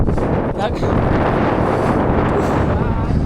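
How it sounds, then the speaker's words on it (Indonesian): Strong wind buffets the microphone on the summit of Mount Agung in Bali, a loud continuous roaring rumble close up, with a voice faintly mixed in. "Anginnya kencang sekali."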